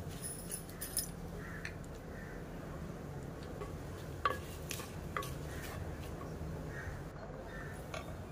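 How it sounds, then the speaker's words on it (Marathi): A curry leaf and asafoetida tempering being stirred in a pan for a mixed vegetable bhaji, with faint scraping and light clinks of a spoon against the pan under a speaking voice. "आता फोडणीला थोडं परतून घेऊया."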